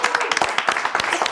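A small studio audience at a children's spelling show claps briefly, with separate, fairly close hand claps forming a loose, uneven patter.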